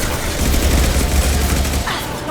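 Loud, continuous gunfire from the Mass Effect Legendary Edition video game: a dense rattle of rapid shots close up that fades out near the end.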